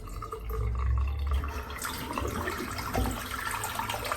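Tap water runs steadily from a faucet during a head shave, a continuous splashing rush that swells louder after the first second and stays fairly close and even, with no talking.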